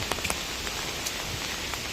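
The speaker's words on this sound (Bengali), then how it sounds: "बहुत जोर से बारिश हो रहा है" Heavy rain falls during Cyclone Remal as a faint, constant patter, with a few sharper drops ticking close by and no talking.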